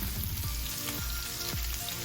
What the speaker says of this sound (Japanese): お肉を焼く良い音がしてくるとお腹が空いてきますね。